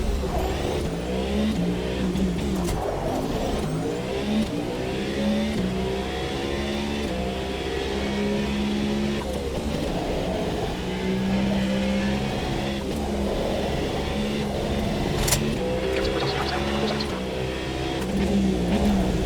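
A race car engine revs hard and continuously during night laps at Le Mans in the Automobilista 2 racing game, its loud, steady mechanical roar rising and falling through gear changes with no voices.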